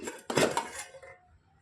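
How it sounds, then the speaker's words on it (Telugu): A metal lid being lifted off a steel pot used to steam buffalo-milk junnu, producing a brief ringing clatter that fades out within a second. "మూత తీసి చూసుకుందాం"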